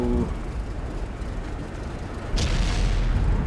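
A tank cannon fires in World of Tanks from a German tier 8 premium light tank, a single heavy boom bursting out over constant engine rumble and battle noise.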